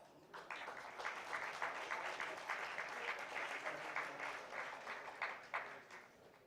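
Audience applause welcoming Mr. James Taylor onto a stage, a steady wash of many hands clapping that holds at a moderate level throughout with no talking over it.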